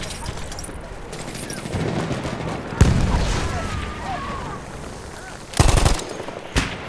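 Starting weapons firing in the video game Battlefield 1, loud bursts of automatic fire and sharp single shots over a rumbling battlefield background, with a voice talking under the action.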